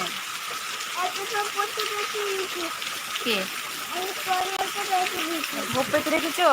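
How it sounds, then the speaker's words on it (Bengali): A steady hiss of heavy rain fills the background while people talk over it. "দেখো এখন কত বৃষ্টি শুরু হয়ে গেছে"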